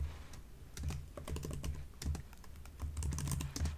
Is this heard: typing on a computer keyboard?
yes